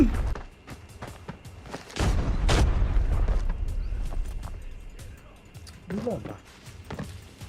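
A heavy, booming grenade blast in the game Arena Breakout, with a broad thud and lingering rumble amid scattered clicks and gameplay noises, with a voice talking briefly near the end.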